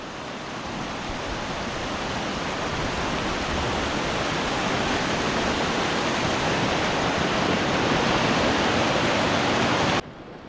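Mountain stream water in the Sikkim Himalayas rushes steadily toward Memencho Lake, a loud, dense, continuous roar of flowing water that holds unbroken for about ten seconds, then drops away sharply.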